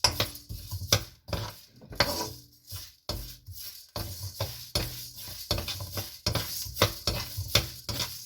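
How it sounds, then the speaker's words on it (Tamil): Spices frying in a pan while a sambar ready-mix is made, heard as a close crackle broken by repeated stirring scrapes and clinks of a utensil against the pan. "பொரியற மாதிரி சத்தம் கேட்குது இல்லைங்களா"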